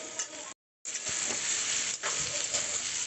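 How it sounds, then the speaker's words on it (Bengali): Vegetables with capsicum and green chili sizzle steadily as they are stir-fried in a pan, a bright continuous crackle broken by a brief moment of silence and by soft scraping of the spatula. "কাঁচা লঙ্কাটা দিয়ে একটুখানি হচ্ছে নেড়ে নিচ্ছি সবজিগুলোকে"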